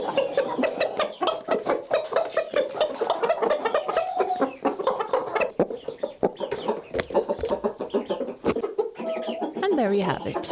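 Chickens cluck and murmur continuously in a coop on a Swedish farm, a busy close chorus of overlapping calls with occasional louder squawks, and a voice talks over them.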